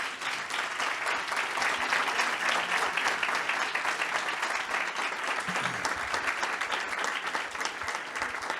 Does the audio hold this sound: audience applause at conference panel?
yes